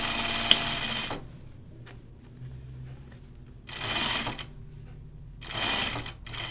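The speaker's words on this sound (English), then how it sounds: "when I'm sewing on the cuff that I'm only sewing on the cuff on both sides" A home sewing machine stitches a cuff onto a Grainline Archer button-up shirt in three loud, steady runs, separated by short pauses in which only faint low hum and quiet handling sounds remain.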